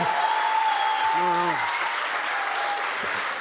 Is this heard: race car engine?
no